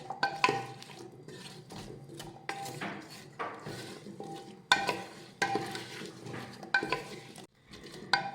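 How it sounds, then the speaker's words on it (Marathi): Potato pieces are sautéed with spices in a pan and stirred with a spatula, giving intermittent scraping and tossing sounds over a light sizzle, close and uneven. "आता हे बटाटे व्यवस्थित परतून घेऊयात"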